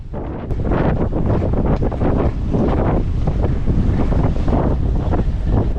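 Strong wind batters the microphone during a sea storm while a fishing boat rides high waves, a loud continuous roar with gusting surges and crashing surf throughout.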